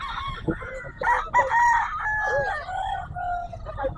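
Several roosters and hens at a market stall in a grotto, gray fowl about eleven months old: a rooster crows loudly and drawn out near the mic, with clucking and other birds around.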